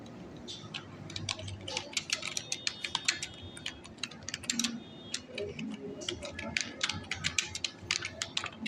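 Someone types a long string of text on a computer keyboard, rapid uneven key clicks running steadily throughout at close range with no speech.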